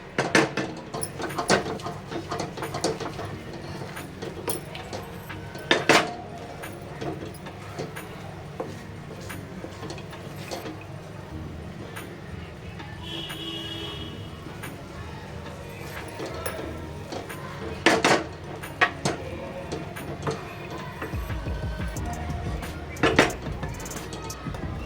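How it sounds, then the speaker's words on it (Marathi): A thick mango and coconut vadi mixture is stirred in a pan, with repeated close scrapes and taps of a spoon against the metal at an uneven rhythm, a few louder knocks, and a low background hum. "आता हे मिश्रण छान असं घट्ट होईस्तोपर्यंत आपल्याला असं हलवायचं आहे।"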